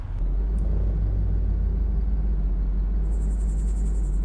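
A Humvee in Arma 2 DayZ rumbles with a steady, loud low engine drone as it drives, continuous and unbroken, with a faint high whine entering near the end.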